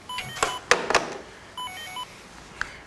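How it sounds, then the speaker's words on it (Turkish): A telephone rings indoors in a Turkish TV drama scene. Electronic ringtone bursts and beeps come in short bursts, with a clear pause in the middle, and the sound is fairly close and prominent. "Dur telefon çalıyor"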